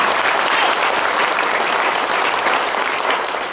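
Crowd at an outdoor political rally in Goochland applauding, a dense, loud wash of clapping that holds steady for a few seconds and then begins to fade.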